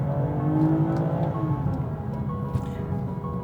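A BMW 2 Series with a 3-litre engine drops a couple of gears and pulls hard, its engine note loud and close, with dense harmonics that rise and shift steadily through the acceleration, no voices over it.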